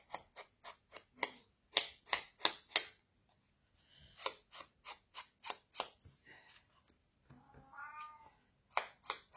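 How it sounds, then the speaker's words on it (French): A pet cat meows a few times, faint and brief, among sharp repeated snips of scissors cutting small paper pieces for a card project, close and steady. "Vous entendez mon chat miauler"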